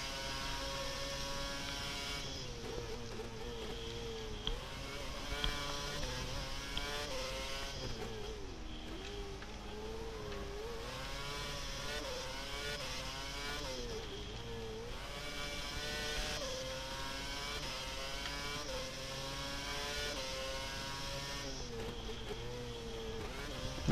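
A Formula 1 car engine in the racing game F1 2011 during the Singapore Grand Prix whines and shifts through rising and falling pitch sweeps, steady and prominent throughout with no talk.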